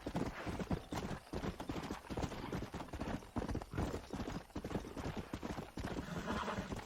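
Horse hooves galloping in the Western video game Red Dead Redemption, a rapid, rhythmic clip-clop close up and loud, with an occasional whinny over game ambience.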